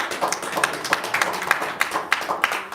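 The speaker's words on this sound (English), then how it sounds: "Yes, please clap." An audience claps at a live talk, a scattered run of hand claps with uneven rhythm, moderately close and fairly sparse, no talk over it.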